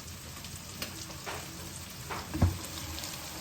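Okra and masala-stuffed chillies frying in oil in a pan, a steady quiet sizzle with a few soft stirring scrapes and one brief louder knock, close by, no voices.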